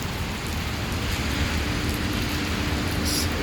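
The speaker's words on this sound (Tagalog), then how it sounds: "Sabi niyo walang walang ulan dito sa Dubai. Pero yung ulan, tingnan mo." Steady rain falls at DMCC Metro station in Dubai, a continuous broadband hiss of drops and runoff that stays even throughout with no voices.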